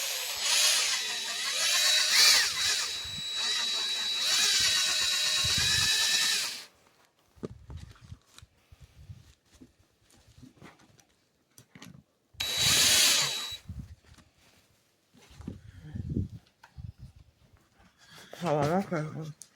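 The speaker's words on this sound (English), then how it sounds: "I gotta drill them out." A power drill whines steadily as it bores out a suitcase foot, a loud close burst of several seconds followed by a second shorter burst, with quiet handling noises and speech in between.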